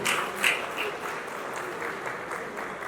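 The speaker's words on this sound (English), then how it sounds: "Please let us applaud him." Applause from the audience at a 40th-anniversary reunion of a college old boys' association, moderate and somewhat distant, a steady patter of clapping hands lasting throughout.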